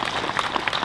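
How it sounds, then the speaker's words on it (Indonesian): A crowd at a religious lecture in Aceh applauds for a legislator, a brief, dense burst of clapping at an even, fairly loud level. "Tepuk tangan untuk anggota DPD."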